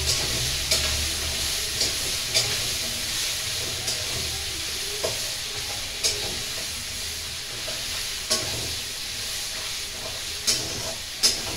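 Prawns fry in hot oil with a steady, close sizzle while a utensil stirs them, tapping the pan every second or so over the continuous hiss; no one speaks.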